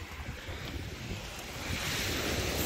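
Sea waves wash onto a rocky shore as the tide rises fast, a steady hiss of surf with wind buffeting the microphone that swells slightly louder toward the end.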